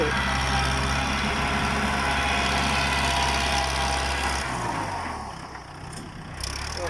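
A Makro backhoe excavator filling soil at a house driveway, its diesel engine droning steadily and loudly nearby, then easing lower toward the end.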